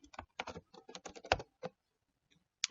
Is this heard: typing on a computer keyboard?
yes